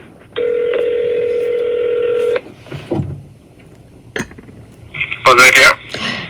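A telephone dial tone holds for about two seconds, then a quick run of keypad touch-tones sounds as a number is dialed, with small clicks between.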